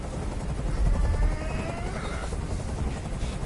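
A helicopter in the video game Detroit: Become Human gives off a continuous whirring rotor drone that stays steady and fairly loud for the whole stretch.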